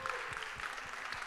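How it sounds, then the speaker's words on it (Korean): Soft, distant applause from a church youth service congregation welcoming newcomers, a brief quiet patter of clapping with no voices. "모두 환영의 박수 한 번만 부탁드립니다."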